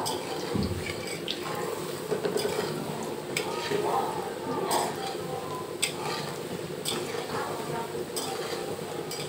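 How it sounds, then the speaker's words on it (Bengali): Potato pieces fry in mustard oil in a wok, producing a steady close sizzle punctuated by intermittent scraping and clinking of a spatula. "আলুগুলো কিন্তু আমি একটু লাল লাল করে ভাজবো।"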